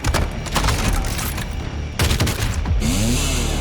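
Gunfire in the video game Doom Eternal: dense, loud bursts of rapid shots and booming blasts, briefly broken by a gap, with a whooshing tone near the end.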